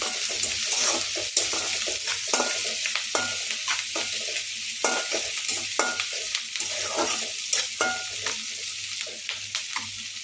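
Onions fry with salt in a pan for a spinach and egg scramble. A bright, continuous sizzle runs under repeated close stirring and scraping strokes, with no talk.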